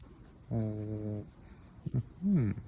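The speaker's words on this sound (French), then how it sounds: "On a même été accueillis par un petit toutou très sympathique." A small dog gives a short whining yelp with clear harmonics, followed by a couple of brief rising whimpers, close by in a quiet space.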